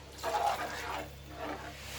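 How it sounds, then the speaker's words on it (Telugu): Two glasses of water poured into a pot of fish curry with tamarind, a soft rushing splash that swells and then tapers off over a couple of seconds, fairly quiet. "ఇప్పుడు 2 గ్లాసులు వాటర్ వేసుకుందాము"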